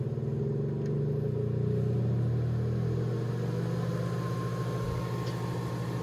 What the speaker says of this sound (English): as you hear the fan accelerating, it just sounds weird